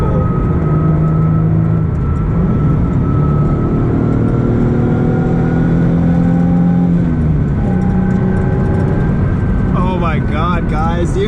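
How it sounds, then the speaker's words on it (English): A car's engine pulls hard as it revs through the gears, its intake roar, exhaust drone and transmission whine layered with a rattle. Loud and close from inside the cabin, with rising tones near the end. "Now I got intake noise, exhaust noise, and trans noise."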